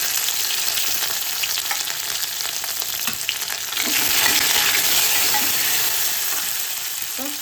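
Curry leaves hit hot oil in a garlic tempering for dal, giving a loud, steady frying sizzle throughout with light stirring clicks and a brief swell partway through, no voices.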